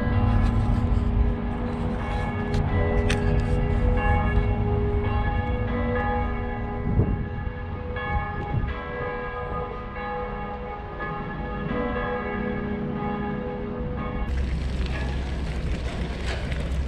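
Church bells in the bishop's town of Fulda ring the evening Angelus, a loud, sustained peal with overlapping rich tones that fills the whole stretch before falling away near the end.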